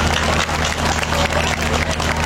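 An audience at an outdoor prayer gathering claps, making a dense, loud wash of applause, with crowd noise and some voices mixed in.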